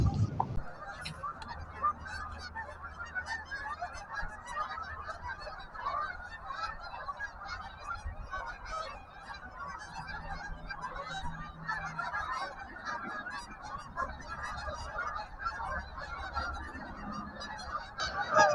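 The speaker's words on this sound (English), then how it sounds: "Also quite a lot of geese. Hopefully they will quiet down a bit." A large flock of geese by a river honks continuously, many overlapping calls of varying distance forming a dense, restless chorus over an outdoor background.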